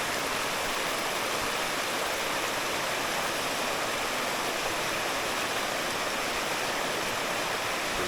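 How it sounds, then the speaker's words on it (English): Water of a Jamaican river falls in a continuous loud rushing hiss, a steady close-up roar of cascading water that stays even throughout with no voices. "the water come down to the bigger falls up there"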